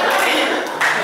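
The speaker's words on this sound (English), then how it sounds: "Stop clapping." Audience clapping at a comedy show, a short steady burst of applause close by.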